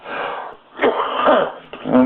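A few rough, raspy coughs and throat-clearing bursts close to the mic, irregular and fairly loud, with no speech.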